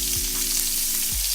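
Onions sizzle loudly as they fry in hot bacon fat, a dense, steady crackle heard close up with no talking, ahead of fried cabbage.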